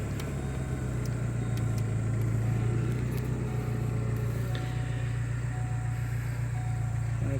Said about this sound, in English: fans are coming on